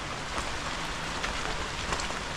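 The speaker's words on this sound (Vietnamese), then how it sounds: "Trời thì đang mưa nữa." Steady rain falls outdoors during a tobacco leaf harvest by seasonal workers in Korea, a dense, even patter with no voices.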